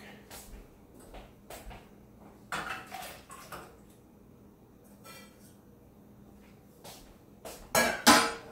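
A knife slicing halved potato into small pieces on a board while cooking BBQ chicken with dumplings, a string of separate sharp chopping knocks and clacks with quieter gaps between, close by, with a voice talking over parts.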